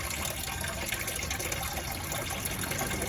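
Coolant being poured into the cooling system of a Ford F-250 Super Duty with a 6.8 V10: a continuous, close gushing pour of liquid with a steady splashing rush, loud and unbroken, with no talking.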